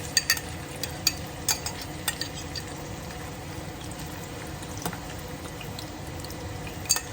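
Chopped onion hitting hot oil in a pan for a plant-based baigan choka, a soft steady crackling sizzle with occasional sharper pops and clicks, close up and fairly quiet, with no talking.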